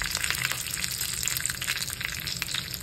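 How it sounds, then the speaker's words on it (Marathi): Mustard seeds, cumin and a curry leaf crackle and sizzle in hot oil for a tempering, a loud, dense, steady spitting close by with no talk. "मंडळी फोडणीमध्ये मोहरी टाकायची, जिरे तुम्हाला आवडत असतील तर जिरे पण टाका, आणि एक कढीपत्त्याचं पान टाकायचं"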